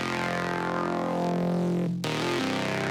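A Serum saw-wave bass synth with its filter driven by an envelope, a sustained buzzy bass line that shifts pitch near two seconds, adding a growling filter sweep, loud and alone.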